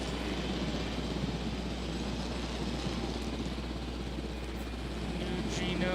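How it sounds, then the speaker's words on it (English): Helicopter piloted in the video game Jurassic World Evolution, a steady low rotor drone and broad engine whir that holds evenly throughout at moderate level. "gonna pilot a helicopter here."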